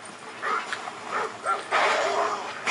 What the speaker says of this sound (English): A dog jumped up here and tried to attack me.